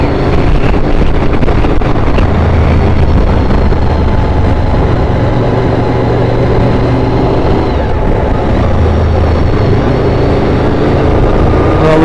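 A Honda VFR motorcycle engine runs while riding along a road, a loud steady drone mixed with heavy wind buffeting on the microphone, continuous throughout.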